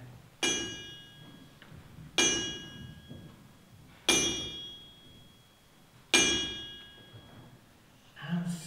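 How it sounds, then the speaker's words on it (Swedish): A blacksmith's hammer strikes metal at a forge in four loud, ringing blows spaced about two seconds apart, each clang decaying slowly with a bright metallic ring before the next strike. "Volund smider och slår med sin hammare."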